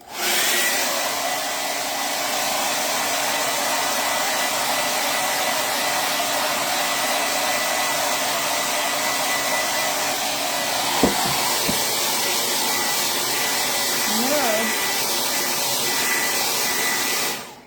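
Hair dryer blowing steadily and loudly on a chalk-transfer craft project for close to eighteen seconds, a continuous broadband whoosh with only a couple of faint knocks near the end.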